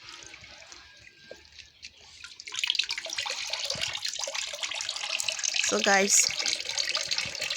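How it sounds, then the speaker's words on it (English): Soaked cassava is washed by hand in a big bowl of water, with steady splashing and sloshing that grows louder midway, close to the microphone, while a person speaks briefly. "I'm washing it in a big bowl"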